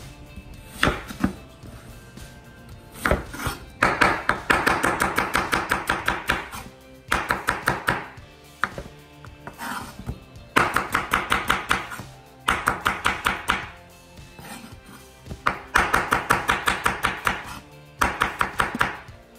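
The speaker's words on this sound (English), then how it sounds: "I'm gonna prep the onions." A knife chops rapidly against a cutting board in quick rhythmic bursts with brief pauses between runs, close and crisp, with no talking.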